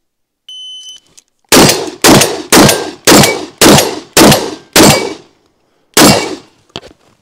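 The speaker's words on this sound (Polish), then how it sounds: "Czekajcie, naliczyłem 9 strzałów." A Franchi SPAS-12 shotgun on full auto fires a rapid string of about eight loud, sharp shots at targets, each blast ringing briefly, with a beep before and a last shot after a pause.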